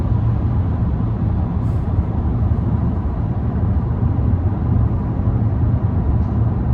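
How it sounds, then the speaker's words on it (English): Steady roar of wind and road noise inside a Tesla Model Y RWD cruising on a highway at night, a dense continuous rumble heavy in the low end with no voices. "It's a bit noisy, I would say, right now because of all the wind."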